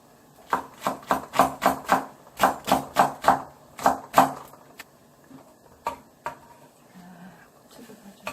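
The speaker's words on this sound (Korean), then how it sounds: "좀 쫑쫑 썰어서" A knife finely chops ingredients for a Korean soybean paste stew. A quick rhythmic run of about a dozen crisp, close strikes on the board comes first, then a few sparse, separate cuts.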